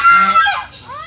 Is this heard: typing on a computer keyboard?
no